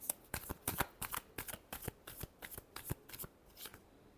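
Tarot cards being shuffled in a quick run of crisp riffling bursts, close and fairly quiet, with no voices.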